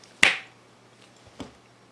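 A crisp finger snap cracks out close and loud, then a second, fainter snap follows about a second later in near silence.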